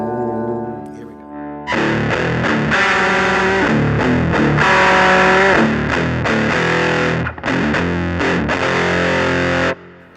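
An electric guitar runs through a Keeley pedal that blends Rat-style hard clipping with SD1 soft clipping, giving loud, thick distorted chords and sustained riffs with a few brief breaks.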